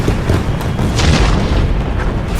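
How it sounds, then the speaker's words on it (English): Fireworks going off inside a wrestling arena as a wrestler leaves make a loud, continuous rumble of booms and crackling bursts that fills the whole stretch without a break. "Fireworks explode as Sylo leaves the arena."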